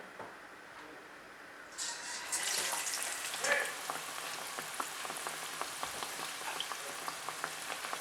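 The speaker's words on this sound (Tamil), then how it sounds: "இப்படி ஃப்ரை பண்ணி எடுக்கணும். எண்ணெய் வந்து நல்லா சூடாக இருக்கணும்." Batter-coated bread bajji frying in hot oil, giving a steady crackling sizzle that swells after a couple of seconds and carries on with scattered pops.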